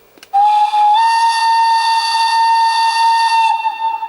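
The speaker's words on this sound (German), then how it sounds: "Da machen wir jetzt hier mal einen Warnton mit der Pfeife." A Roco BR 150 model locomotive sound module sounds its whistle warning tone, one loud, steady, shrill steam-whistle blast lasting about three seconds before trailing off, with no talking over it.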